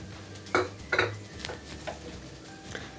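Metal spatula scraping and clinking against a pan while Schezwan egg fried rice with spring onions is tossed and mixed, a few sharp close clanks early on, then softer scrapes.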